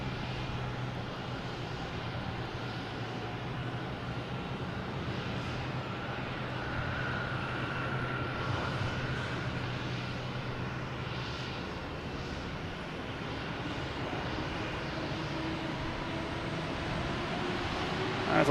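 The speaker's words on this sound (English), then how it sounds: "we got United Airlines taking off at 737 MAX 9, heading to LAX" United Airlines Boeing 737 MAX 9 taking off from Boston Logan Airport, bound for LAX, heard as a steady, broad jet engine roar that holds level throughout without fading.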